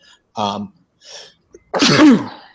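A person sneezes once, loud and close, with a sharp burst after a couple of short vocal sounds leading up to it.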